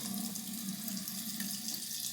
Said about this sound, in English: So we're going to go ahead and rinse this off now with cold water.